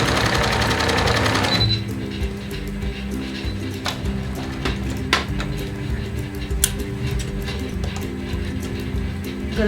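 Close, loud sewing machine whirring through a kameez neckline seam for the opening stretch, then stopping and giving way to a low steady hum with light handling clicks.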